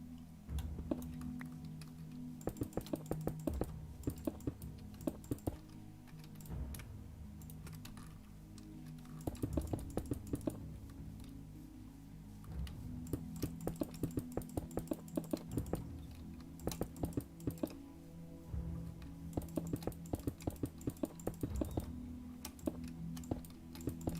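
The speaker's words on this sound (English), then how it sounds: "I need to get a silent keyboard and a silent mouse, because it's just, I can hear it through my noise-canceling headphones" Fingers type on a computer keyboard with steady clusters of sharp clicks and key taps, fairly close, over a low background hum, with brief pauses between bursts.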